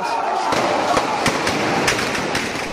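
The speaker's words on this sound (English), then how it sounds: "Protesters flee gunfire in the Syrian town of Aleppo." Sharp gunshot-like cracks ring out several times at irregular intervals amid a noisy crowd at a street protest in Aleppo, Syria.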